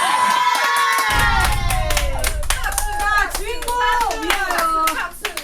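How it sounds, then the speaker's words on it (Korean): A lively audience claps and cheers at a dance battle held in a Junco karaoke room, dense close hand claps with whoops and shouts, starting suddenly and running loud throughout. "이분은 박수 주셔야겠죠."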